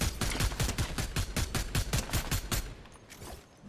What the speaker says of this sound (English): why do I gotta use my combat SMG sometimes for everything?